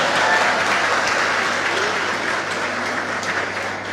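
Audience applause fills a career guidance seminar hall for GPSC and police exam candidates, a steady wash of many hands clapping throughout, easing slightly toward the end, with no talk over it.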